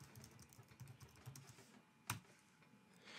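Fingers tap out a short burst of typing on a computer keyboard, light quick clicks close by, followed by one sharper key strike and then quiet.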